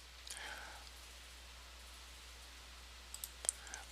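A computer mouse gives a few sharp, close clicks in quick succession near the end, faint and isolated against a quiet background hum.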